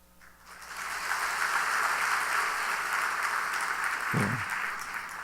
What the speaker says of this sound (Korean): 그래서 뜨겁게 박수해 주시길 바랍니다.